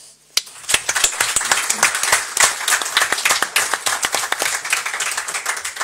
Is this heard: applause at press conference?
yes